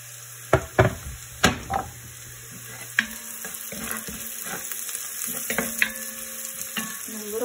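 Chopped onions and minced garlic frying in a pot for a gnocchi beef stew, a steady sizzle with several sharp utensil scrapes and stirring knocks early on, close and fairly loud.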